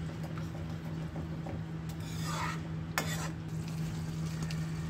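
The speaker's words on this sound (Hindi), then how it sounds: "अब इसको अच्छे से चला देंगे।" A spoon stirs Kashmiri aloo dum masala with kasuri methi in a pan on the stove, giving soft scraping strokes over a low steady sizzle, faint and close with no talk.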